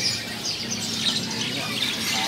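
Canaries chirp and trill inside a crowded bird shop kiosk, faint and scattered over a low background murmur.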